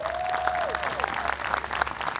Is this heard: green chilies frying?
no